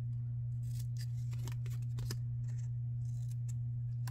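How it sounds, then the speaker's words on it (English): Scissors snip a square off a sheet of paper for a fringed heart Valentine banner, a series of short crisp cuts at close range over a steady low hum. "We're gonna cut off that square."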